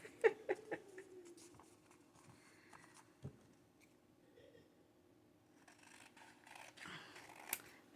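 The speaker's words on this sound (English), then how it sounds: "I end up cutting it with scissors anyways" Several crisp snips of scissors cutting paper near the start, followed by quieter rustling and handling sounds, with a few more sharp snips later.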